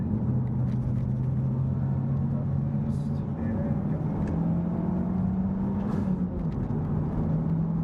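A Mitsubishi Lancer Evolution X engine with a tuned setup drones steadily at close range, its pitch climbing and then dropping as it shifts from third into fourth gear, with a continuous rumble throughout.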